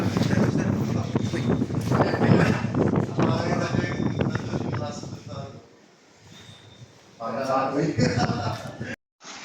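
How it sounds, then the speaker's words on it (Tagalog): Strong wind at a beach resort in General Nakar, Quezon, buffets the microphone in heavy rumbling gusts, easing briefly midway before returning, with people talking throughout. "Sobrang malakas ang hangin."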